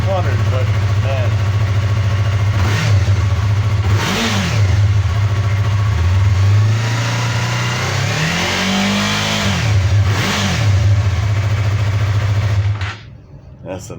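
A stock-exhaust Yamaha MT-03 300cc motorcycle revs close by, its engine note swelling and falling in repeated blips over a steady idle before cutting off near the end.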